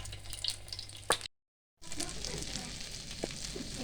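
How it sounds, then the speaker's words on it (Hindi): Shami kebabs fry in a pan, a soft, even sizzle close by that drops out completely for a moment before resuming at the same level. "इस तरह हम अपने शामी फ्राई कर लेंगे।"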